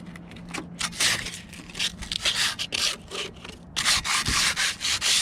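Rust is sanded off a Jeep's brake rotors by hand in steady back-and-forth rubbing strokes, close and loud, continuous, with a brief pause before faster strokes resume.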